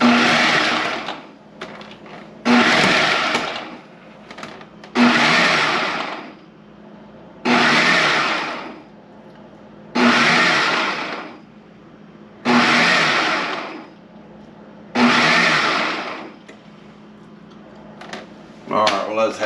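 A kitchen blender chops pieces of black drum fish for imitation crab in seven loud, evenly spaced pulses, each a couple of seconds of harsh whirring separated by short quiet gaps.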